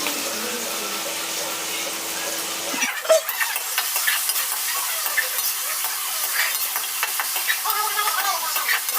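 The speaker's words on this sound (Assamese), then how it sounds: "সময়লৈকে এইখিনি ভাজি থাকিম।" Chopped onions and medium tomatoes fry in a pan, and a loud, continuous sizzle breaks out after a brief stir, with scattered crackles and scraping over the steady hiss.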